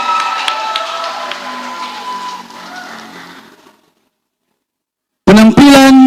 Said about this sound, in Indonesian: mana semangat dan tepuk tangan dari kita semua?